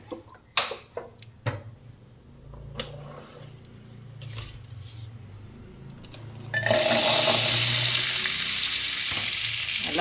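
Small shallots drop into hot oil in a pan, building from a few clattering knocks into a loud, steady sizzle that fills the second half, for country chicken kuzhambu, with no speech.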